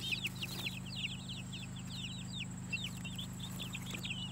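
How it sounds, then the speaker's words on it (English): Speckled Sussex and Jersey Giant chickens cluck and chirp in a steady, busy run of short calls over a constant low hum, fairly close and moderately loud, with no talking. "Here's a speckled Sussex."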